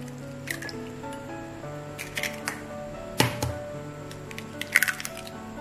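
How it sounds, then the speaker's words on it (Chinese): Two eggs are poured into a bowl, giving a few soft wet squishes and drips, with a sharper plop midway and a small cluster near the end, over a quiet steady background tone. "碗中倒入2个鸡蛋"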